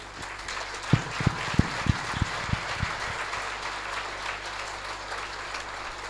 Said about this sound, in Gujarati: આપણે બધા ઊભા થઈ અને 3 તાળીથી ગિરીશભાઈ સાહેબને માન આપીશું આપણે